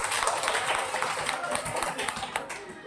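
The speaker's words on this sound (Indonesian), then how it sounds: "Mana tepuk tangannya?" Participants in a primary school teaching simulation session clap together, a dense, continuous patter of hands close by with some voices mixed in.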